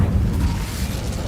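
A fire spell cast in the wizarding video game Hogwarts Legacy lets out a dense, rumbling whoosh of flame, heavy and steady in the low end, filling the whole short moment with no talk.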